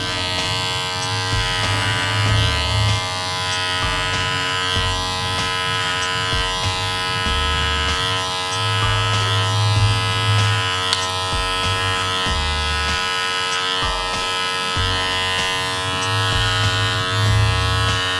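Electric hair clippers with a 3 mm number one magnetic grade guard buzz steadily and close up, a continuous motor hum with slight rises as they cut through hair during a barbershop haircut.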